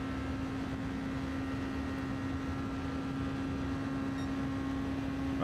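An air conditioner runs steadily in a room, a constant close hum with a strong low tonal drone and even broadband hiss that holds unchanged throughout.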